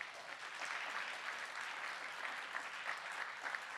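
Sustained applause from a concert audience for a young saxophonist in a big band, a dense, steady wash of many hands clapping at moderate distance for about four seconds with no talking.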